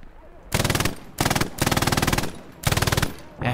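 Long bursts of MG42 machine gun fire in the video game Hell Let Loose, four rapid, loud ripping volleys separated by short pauses.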